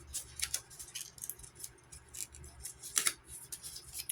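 Scissors snip off paper corners in a series of small, quiet crisp cuts, several close clicks spaced irregularly over a faint background.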